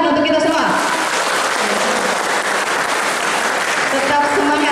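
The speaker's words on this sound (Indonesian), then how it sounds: "Tepuk tangan untuk kita semua." Audience applause at an opening workshop session, a sustained crowd of clapping hands filling the whole stretch, fairly loud and steady with some voices mixed in.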